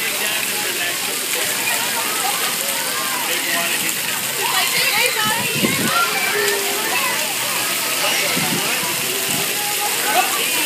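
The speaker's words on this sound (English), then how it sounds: "And now we're at the water park." Water sloshes and splashes steadily at a water park, a constant wash of spray and spatter throughout, with voices of people talking over it.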